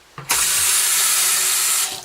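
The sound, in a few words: water running from a faucet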